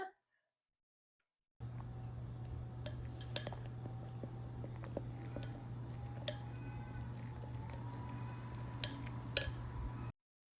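A spoon stirs sourdough starter in a jar, giving close, irregular clinks and scrapes against the glass over a steady low hum, with a faint voice briefly at the start.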